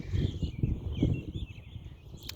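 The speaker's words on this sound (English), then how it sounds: "Hearing the birds, it's marvelous." Birds chirp and trill softly in the open air of a public park, a few calls overlapping against a quiet outdoor background.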